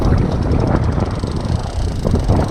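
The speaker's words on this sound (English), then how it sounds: "I'm just gonna kill the engine." Fishing boat engine running out on the water off Destin, Florida, a loud, continuous rumbling drone mixed with wind buffeting the microphone, with no talking.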